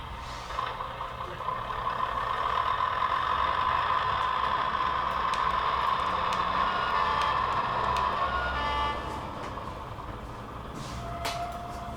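Engine sound module on a remote-control model truck revving up as the throttle opens, a steady synthetic diesel drone that swells and holds for several seconds before easing back, with no talking over it.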